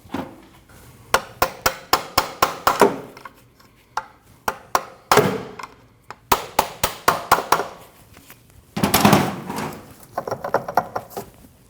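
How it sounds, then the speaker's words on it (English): Repeated sharp metal-on-metal hammer strikes on a chisel, freeing a driveshaft from the rear differential of a Ford Escape, coming in quick bursts of several blows with short pauses between, close and loud. "tap right here with a hammer or a chisel with a hammer to remove it"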